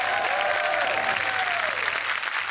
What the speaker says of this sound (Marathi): जोरदार टाळ्या झाल्या पाहिजेत सई तामणकरसाठी.